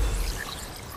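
Waterfall water in Kena, a dense continuous pouring rush that fills the whole second, loud and close with no break.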